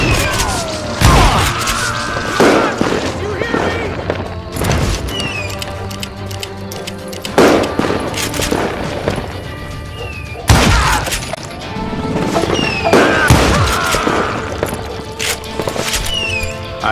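Rapid gunfire from the Western shooter Call of Juarez Gunslinger, loud sharp shots in irregular bursts with crashing, shattering impacts and booms, continuous throughout.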